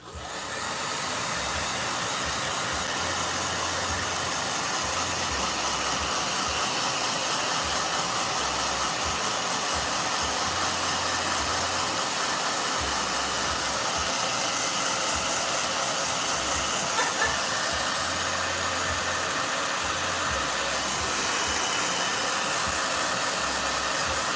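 Hair blow dryer running steadily and loudly, a constant broadband whooshing roar with a low motor hum, close and uninterrupted throughout, with no talk.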